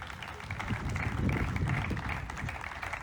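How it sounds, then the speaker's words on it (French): Audience applauding at a memorial day ceremony in Guadeloupe as a singer arrives on stage: a steady wash of many hands clapping at moderate volume, continuous throughout with some murmur mixed in. "Je vous remercie d'accueillir avec vos applaudissements"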